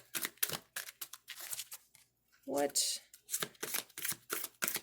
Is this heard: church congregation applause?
no